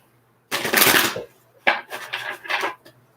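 Tarot cards shuffled by hand in quick riffling bursts, one long crisp flurry followed by several shorter shuffles, close and clear with no talking.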